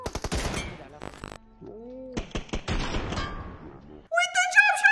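Sniper gunfire in a video game: a burst of sharp, loud shots at the start, then further cracks in the middle alongside excited voices commenting over the game.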